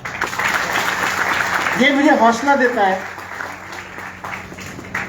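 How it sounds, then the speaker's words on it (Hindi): A hall audience claps during an AI and education talk in Indore, a broad patter of applause running beneath someone speaking into a microphone. "और सबसे ज्यादा तालियां उन लोगों के लिए जो इस बातचीत को सुनने के लिए आए हुए हैं"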